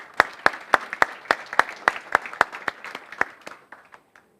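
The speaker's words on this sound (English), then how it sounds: "Let's give them all a round of applause." A few people clapping at a reading benchmarks presentation, sparse evenly spaced claps in a steady rhythm that thin out and stop after about four seconds.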